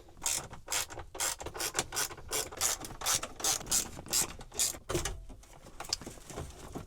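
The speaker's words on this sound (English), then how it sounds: "these are 7mm bolts, so we're just going to take those out now" A hand ratchet spins out 7mm bolts holding the radio in a 2005–2009 Mustang dash, giving a run of quick, close pawl clicks in bursts, loud and steady with no talking over it.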